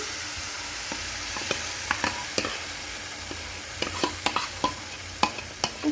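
Batter sizzles in an oiled pan, a steady hiss of frying with scattered sharp pops and crackles throughout, close and fairly quiet.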